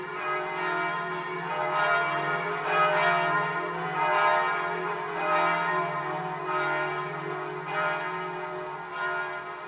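Church bells of La Close in the French Gévaudan region ring in steady repeated strokes, a continuous resonant peal sounding at a moderate distance with no voices.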